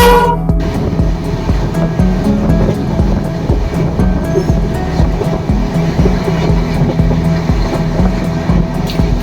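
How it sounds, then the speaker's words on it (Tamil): A train departing Pune railway station in the rain rumbles steadily and loudly with rhythmic clacking of wheels over rail joints, a continuous heavy mechanical roar throughout. "இப்போ நம்ம ட்ரெயினுமே வந்து பார்த்தீங்கன்னா பூனா ரயில்வே ஸ்டேஷன்லேருந்து கிளம்ப போகுது."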